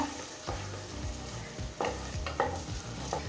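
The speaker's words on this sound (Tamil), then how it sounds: "ஸ்லோலே வச்சு பச்சை வாசனை போக நல்லா வதக்கிக்கோங்க" Ground chili paste is sautéed in a pan for Ambur chicken biryani, with a soft continuous sizzle broken by repeated scraping and stirring strokes of a spatula, close up and without talking.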